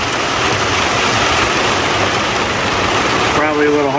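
Heavy rain pours down outdoors in a dense, loud, continuous hiss, with a voice briefly audible near the end.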